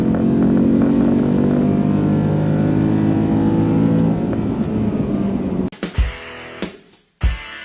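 A Ford F-150 with a 5.0 Coyote V8 and an S&B intake accelerates hard, its engine tone rising loudly for several seconds before cutting off abruptly into brief choppy bursts and silence.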